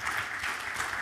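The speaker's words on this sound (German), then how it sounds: "Ein Applaus für Frau Redder," Faint, brief applause from a panel-discussion audience as a professor is welcomed onto the stage, a soft continuous patter heard at a distance.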